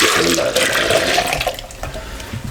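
Tamarind pulp and water pour into a jug for chutney, a loud, continuous splashing gush of liquid filling the container close by, with no talking over it.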